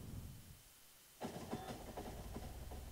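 A train running in the video game Factorio, quiet rumbling hum that suddenly swells into a clattering rolling rush with repeated rhythmic clicks, faint overall with no talk.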